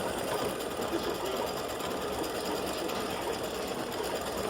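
An embroidery sewing machine stitches a freestanding lace St. Patrick's Day horseshoe design, giving a steady, continuous mechanical whir at close range with no talking over it.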